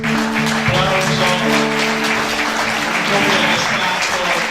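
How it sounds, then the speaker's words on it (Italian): Audience applause at a theatre reading of Greek tragedies translated into Sicilian, a steady wash of clapping that holds for several seconds over a sustained musical tone. "Il pubblico gradisce ancora con un applauso"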